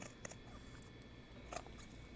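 Kai serrated scissors snip through fabric and lining in a few quiet, crisp cuts, up close and faint against a steady background hiss.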